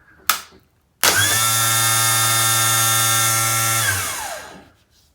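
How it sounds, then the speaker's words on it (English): A cleaned and reassembled outboard motor electric starter motor spins up sharply after a brief click, holding a loud steady whine for about three seconds before winding down to silence. "That motor don't seem very, very powerful to me."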